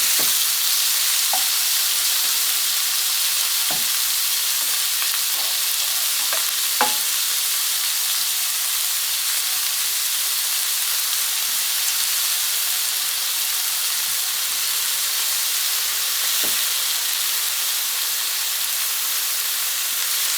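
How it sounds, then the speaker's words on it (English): Meat sizzles and browns in a frying pan, a loud, continuous hiss of frying with occasional taps and scrapes as pieces are stirred and turned, no voices. "I'm now just turning the meat over to try and make sure that it's browned before it starts producing the juices"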